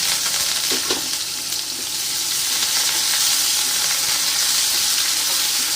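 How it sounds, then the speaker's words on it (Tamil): Onion and curry leaves fry with mustard seeds in hot oil, giving a dense, continuous, loud sizzle close by, with faint crackles and a spoon stirring, and no talking. "இப்போ வெங்காயம் போடும் ரெண்டு கருவேப்பிலை போடும்"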